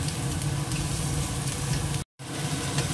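Steady, loud sizzling of shrimp frying in a hot pan, continuous crackle with a brief cut of silence partway through.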